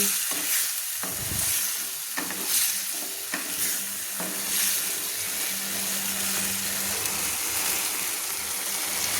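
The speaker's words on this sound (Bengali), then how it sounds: "আমি সবুজ মটরগুলো কী সুন্দর নেড়ে নিচ্ছি" Green peas being stirred with spices in a hot pan using a spatula, giving steady sizzling with repeated scraping strokes at close range. No voices are heard.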